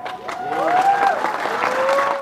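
A crowd in Sonsonate, El Salvador, applauding a returning athlete, a dense wash of clapping with whistles or cheering voices gliding over it, close and fairly loud.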